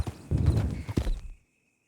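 A horse in Red Dead Redemption 2 clops a few heavy hoofbeats up close in an uneven rhythm, then everything falls quiet.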